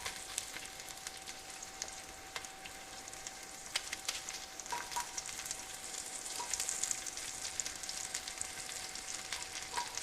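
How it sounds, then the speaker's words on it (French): Two onion halves frying gently over low heat in a pan while turkey sauté is prepared, giving a steady, faint crackling sizzle with scattered small pops throughout and no talking. "Je vais mettre ça sur le petit feu pour faire doucement griller"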